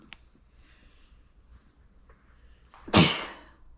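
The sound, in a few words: sneeze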